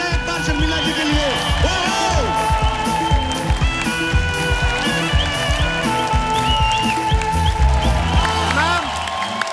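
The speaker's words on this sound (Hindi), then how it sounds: "जोरदार तालियां हो जाए एक बार शर्मिला जी के लिए" Loud applause and cheering for actress Sharmila Tagore on stage, clapping and crowd noise mixed with a playing song and music, continuing steadily throughout.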